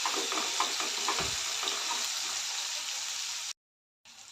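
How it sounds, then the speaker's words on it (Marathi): Chopped tomatoes with salt sauté in a hot pan, giving a steady close sizzle with a faint stirring scrape underneath. The sound then cuts out abruptly for a moment before returning. "अर्धा चमचा मीठ घालते चांगलं टोमॅटो सॉफ्ट होईपर्यंत परतायचं आहे"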